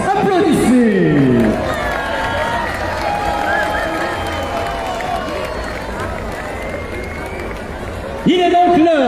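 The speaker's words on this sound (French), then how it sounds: "Applaudissez!" A crowd at an outdoor winter-effigy trial festival cheers and applauds the prince and princess, a dense steady roar of clapping and hubbub under a loud amplified voice at the start and end.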